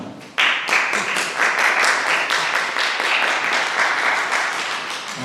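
Loud, hearty applause from a crowd of students at a science and technology culture forum held in a white porcelain museum in Yanggu, bursting in suddenly and continuing as a dense, steady roar of clapping for several seconds.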